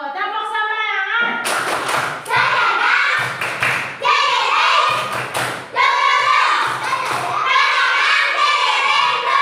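A classroom of pupils performs a rhythmic spirit clap, bursts of clapping and thumping in a patterned beat mixed with children chanting along loudly, pausing briefly between phrases.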